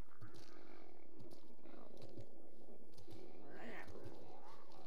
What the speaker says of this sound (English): This sounds like a really pissed off cat.